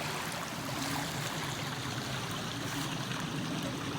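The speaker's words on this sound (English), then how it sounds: "a pretty good creek." A creek near a backcountry campsite flows with a steady, broad rushing and burbling, close and fairly loud, continuous for several seconds with no talking.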